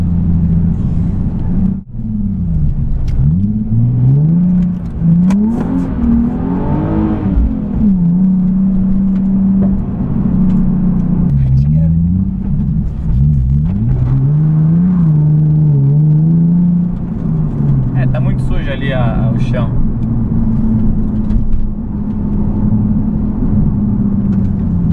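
Nissan 370Z revving on an empty street as it kicks sideways into a slide, the engine note climbing and falling in repeated swooping sweeps, loud and close with a steady rumble beneath.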